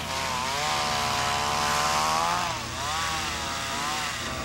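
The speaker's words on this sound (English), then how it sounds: "That's a chainsaw! Maybe the Yeti is cutting down trees!" A chainsaw cutting down trees runs at a loud, steady, near whine, its pitch dipping and rising as it bites into the wood. A cartoon setting.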